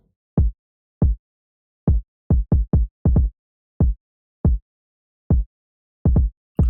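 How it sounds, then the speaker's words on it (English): A lone kick drum thumps in a sparse, steady pattern, deep and punchy, with short gaps between hits and no other instruments or voices. "just one regular kick, which sound like this."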